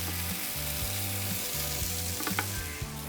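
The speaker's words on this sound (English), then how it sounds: "We're getting a beautiful sear on our steaks." Portuguese heritage steaks searing on a hot grill, a steady broad sizzle with a few small pops, under a low rhythmic humming tone, no voices.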